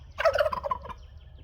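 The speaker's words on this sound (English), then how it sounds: "That ain't quacking. That's just the turkey." A turkey gobbles once, a quick rattling burst that trails off, fairly close and clear with no talking.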